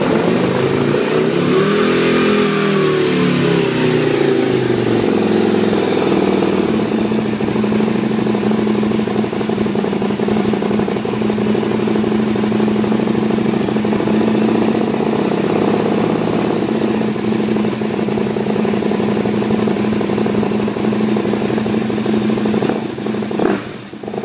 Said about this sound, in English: what we'll do is we'll try and start the bike